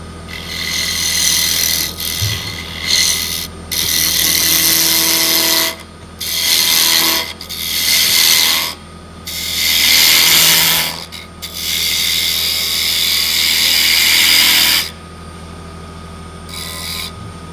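A machine spins at around 2,500 RPM with a part held on by magnets, producing a low steady hum under repeated loud bursts of rasping, grinding noise that start and stop several times.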